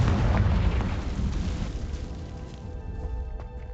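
A Confringo fire spell explodes in Hogwarts Legacy, a loud, close, deep boom with heavy low rumble that slowly fades over a few seconds.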